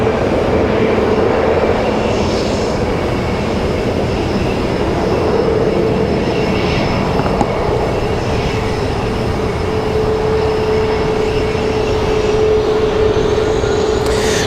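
An airliner departing Raleigh-Durham International Airport, a loud, steady, broadband roar that holds throughout with a faint sustained tone and no talking.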